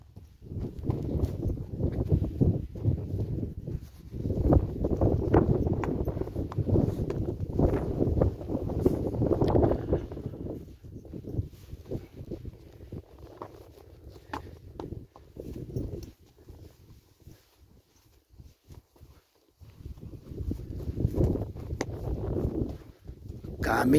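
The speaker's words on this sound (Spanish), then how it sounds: "Son caballos." Horses walk along an old mountain trail, their hooves clip-clopping in uneven steps near the microphone, with wind buffeting and people talking at times.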